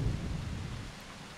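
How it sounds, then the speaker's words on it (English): Thunder rumbling through steady rain in the video game Tales of Legendia, a low rolling boom fading under a continuous wash of rainfall, fairly close and alone. "Alright, just lightning."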